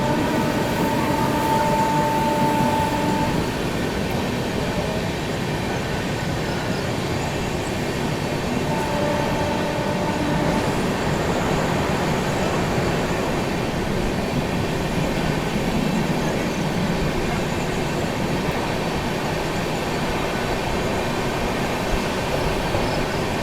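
The CR Rajdhani Express train rushes through Rani Kamlapati railway station without stopping, a loud, steady rolling rumble of wheels on rails lasting throughout, with faint squealing tones early on.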